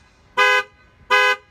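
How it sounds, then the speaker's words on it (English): Two short, loud car horn blasts, evenly spaced about three-quarters of a second apart, sounding alone against a quiet background. "Somebody's just honking out to you."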